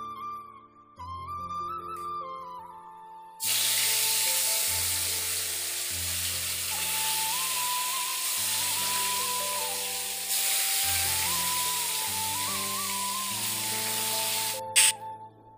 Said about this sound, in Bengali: ওইদিকে মাছ ভাজা বসালাম